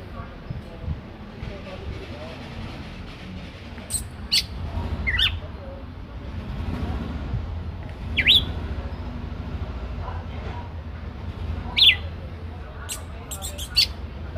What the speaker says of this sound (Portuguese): Bota o Campina cantando aí.